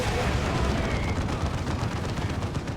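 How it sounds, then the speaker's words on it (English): Lascannon shots and other gunfire in a 3v3 match of the video game Warhammer 40k: Dawn of War 2 form a dense, continuous wash of battle noise with blasts and crackle throughout. "Eating las cannon shots though."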